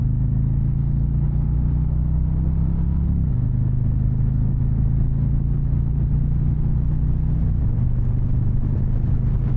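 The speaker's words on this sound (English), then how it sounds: "now this one sounds like a Harley" A 2024 Harley-Davidson Road Glide motorcycle engine runs under way, a deep, loud, continuous rumble heard close up, its pitch easing down twice as it shifts.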